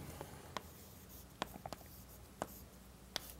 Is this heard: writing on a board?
yes